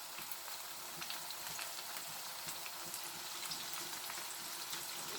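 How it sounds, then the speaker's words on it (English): Chicken pieces fry in a pan, a continuous close crackling sizzle with fine popping spatters throughout, steady and fairly quiet with no talk. "So leave that to fry."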